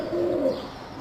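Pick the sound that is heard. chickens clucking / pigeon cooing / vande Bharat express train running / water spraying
pigeon cooing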